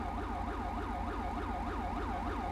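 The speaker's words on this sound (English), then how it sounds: "it looks like the ambulance has already been dispatched" An ambulance siren in the LSPDFR police mod for GTA V rises and falls in a fast, steady warble, loud and continuous with no speech.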